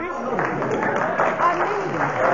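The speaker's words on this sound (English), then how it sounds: "get a round of applause for it" A studio audience at a radio panel game gives a round of applause, a steady wash of clapping heard under a voice talking over it.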